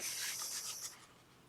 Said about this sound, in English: now I'm just rubbing the back of it